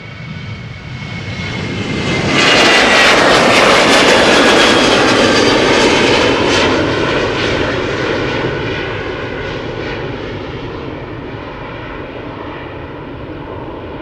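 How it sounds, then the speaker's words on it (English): A KLM Boeing 737, seventeen years old, departs Schiphol Airport on a flight to Oslo, its jet engines swelling into a loud, broad roar with a whining tone, then slowly easing off as the aircraft moves away. "First 737 of the show. KLM flight 1199 going to Oslo."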